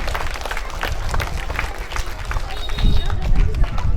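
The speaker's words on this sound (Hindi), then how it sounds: "जोरदार तालियों से इनका स्वागत करें" Loud, rough applause from a school Independence Day celebration audience for a young chess player, clapping mixed with crowd noise and swelling near the end.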